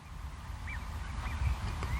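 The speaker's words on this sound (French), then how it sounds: "Vous avez entendu ce canard?" A duck calls twice in the distance with brief, faint quacks over a steady low rumble of outdoor background noise.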